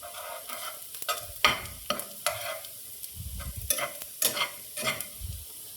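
Chopped garlic and onion frying in oil for a white sauce penne pasta, stirred with a spoon that scrapes and clacks against the pan in irregular strokes over a steady soft sizzle, close up with no talking.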